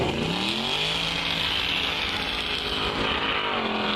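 A small car engine at a car show cruise-in revs steadily and loudly, its pitch rising and falling slightly as it holds at high RPM, with no talking.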